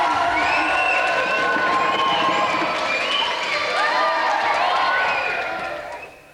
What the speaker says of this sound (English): Another round of applause then for our three contestants.